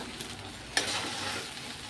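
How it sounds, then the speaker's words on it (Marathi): Sabudana khichdi sizzling in ghee in a pan while being stirred, a steady close frying hiss with a sharp scrape of the spoon partway through. "आता आपल्याला तूप सोडायचं आहे, ते सगळीकडे असं फिरून घ्यायचं"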